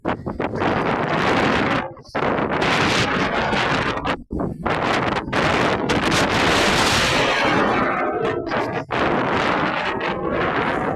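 Loud, blustery wind buffets the microphone in a continuous roar, with brief drops in between gusts.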